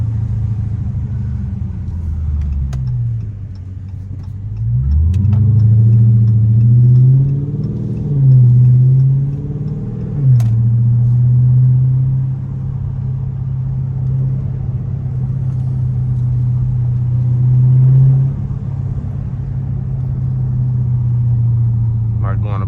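Dodge Charger Scat Pack driving in daytime, a deep steady engine rumble from inside the cabin that rises briefly with throttle changes, under occasional talk from the driver.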